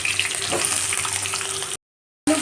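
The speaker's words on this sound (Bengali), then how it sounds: "এর মধ্যে কুচনো আলুগুলো আমি ভাজার জন্য দিয়ে দিচ্ছি" Chopped potatoes sizzling in hot oil on top of tempered whole spices and bay leaf, a steady loud crackling hiss that cuts off abruptly near the end and briefly resumes.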